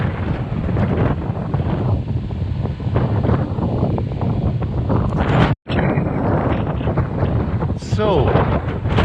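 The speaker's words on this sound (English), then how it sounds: "Don't know if you can hear the wind." Strong wind buffets the microphone at an abandoned coastal artillery battery above the Atlantic in Portugal, a loud continuous roar with gusty surges, broken by one brief dropout partway through.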